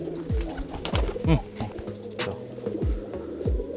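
Pigeons of a sibling pair kept in a coop coo repeatedly in low, rolling calls about once a second, close and clear, with faint higher chirps from other birds in the background.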